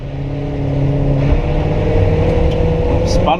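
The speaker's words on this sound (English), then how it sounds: "we are gonna do a 0 to 60 in Cooper" A Cooper car launches hard from a standstill on flat, dry ground for a 0 to 60 mph run, its engine roaring loudly and climbing in pitch, with a shout at the start.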